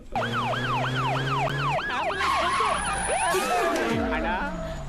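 An ambulance siren wails loudly in a repeating up-and-down pattern, then shifts to a faster yelp with a second siren joining as the vehicles approach, continuous and close with traffic noise.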